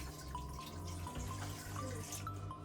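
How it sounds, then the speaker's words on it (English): A thin trickle of water poured into the bottom of a steamer pot while making baby food, heard as a quiet, steady running splash with soft drips and no talking. "pour a little bit of water in the bottom of this"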